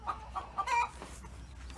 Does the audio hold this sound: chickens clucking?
yes